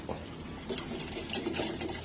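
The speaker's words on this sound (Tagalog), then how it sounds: "Then ihuhulog na po yung dugo." Pig's blood pours into a cooking pot of dinuguan with vinegar and water, a soft, continuous liquid gurgle and splash that runs steadily at close range.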